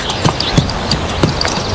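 A horse's hooves clip-clop in a loose, irregular rhythm of soft thuds, fairly faint under steady background hiss.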